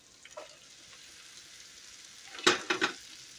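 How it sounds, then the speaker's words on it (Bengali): Chopped okra meets hot oil in a pan, a faint steady sizzle that flares into a few loud crackling bursts near the end, with no voices. "ঢেঁড়স কুচিটা দিয়ে দিয়েছি। এখন এটাকে সুন্দরভাবে নেড়ে চেড়ে"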